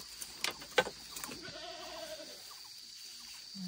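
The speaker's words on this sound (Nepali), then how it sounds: "बाख्रा" A goat in a rural Nepali village gives a short series of quavering bleats at moderate distance, preceded by a few sharp knocks and rustles, with no talk.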